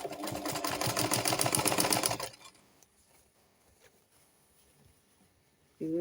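A sewing machine stitches a flounce sleeve cap in a quick, even run of about two seconds, then stops, leaving near silence before a voice starts at the end.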